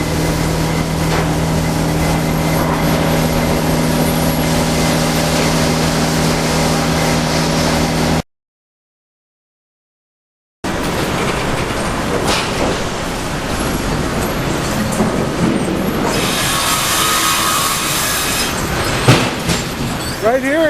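A 7-foot double-cut head rig saw at a sawmill runs loud and close, a droning machine hum with steady tones, then a brief gap before harsher cutting noise and clatter returns.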